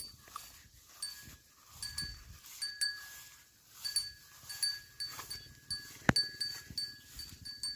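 Cows being herded home through a Konkan village, with soft, irregular hoof and rustling sounds, a faint bell clinking now and then, and a sharp knock near the end.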